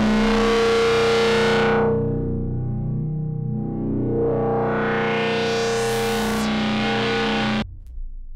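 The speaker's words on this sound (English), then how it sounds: "Setting filter A to comb and shaping with the overdrive and filtering of B is a great configuration for creating realistic sounds of feedback and metallic noises." A Bionic Lester MK3 comb filter driven with overdrive produces a loud, distorted metallic feedback tone that sweeps down and back up in a resonant swoosh before cutting off sharply near the end.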